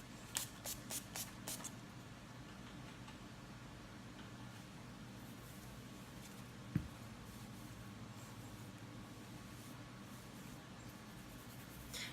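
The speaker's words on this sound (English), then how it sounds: "And now I'm just going to set my whole face with the NYX Matte Finish Spray." NYX Matte Finish setting spray is misted over a face in a quick burst of several short, close spritzes at the start, followed by a quiet room hush.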